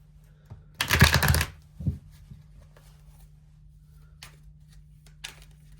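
Tarot cards being shuffled, one quick riffling burst followed by a softer riffle and a few faint later card flicks, close and clear against a quiet background with no talk.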